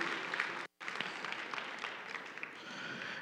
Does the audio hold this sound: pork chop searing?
no